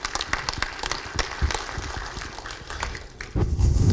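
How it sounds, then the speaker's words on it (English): Scattered clapping from an evening audience at a city hall pitch event for entrepreneurs, uneven sharp claps rising and falling over a few seconds, ending in a louder rumble of shuffling and crowd noise. "let's give them a round of applause"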